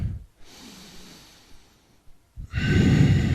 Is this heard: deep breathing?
yes